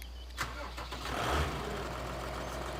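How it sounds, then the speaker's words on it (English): A Deutz Fahr Agrotron 120 MK3 tractor engine cranks and starts in Farming Simulator 2013, settling into a steady low idle rumble after a brief rise in loudness, with no talk over it. "Let's start up the tractor."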